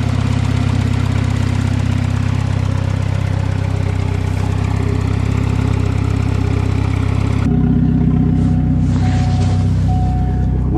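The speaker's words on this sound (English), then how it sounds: "Oh, what a lovely turbo." Turbocharged engine of a Swedish car idling steadily on a snowy farm, a loud constant low rumble throughout, with a faint whistling tone appearing near the end as the sound shifts slightly.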